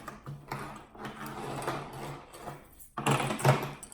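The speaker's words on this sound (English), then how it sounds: "I'm going to use my regular sewing machine because my cover stitch actually isn't threaded." A regular domestic sewing machine stitching in short mechanical bursts, a whirring gear rattle with a low hum that stops and starts, with a brief pause before a louder final run.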